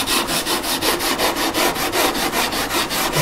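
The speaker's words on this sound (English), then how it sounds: "Sanding everything" Sandpaper scrubbing the wooden body of a custom electric guitar, a close, even back-and-forth rasp in steady strokes, about five per second, alone with no voices.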